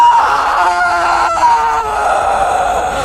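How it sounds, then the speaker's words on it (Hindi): A harsh, wavering scream from a Chhalava spirit in a horror tale, loud and sustained for about three seconds, with a rough, strained, wailing tone close up. "छलावा ने चीख मारी"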